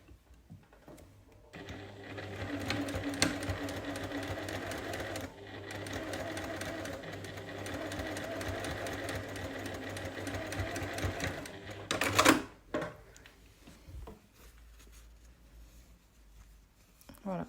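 A sewing machine stitches a lined sleeveless vest, running in one steady whirring, rapidly pulsing burst of about ten seconds before stopping, followed by handling noises.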